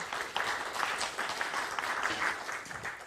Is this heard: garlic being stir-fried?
no